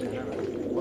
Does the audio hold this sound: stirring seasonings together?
no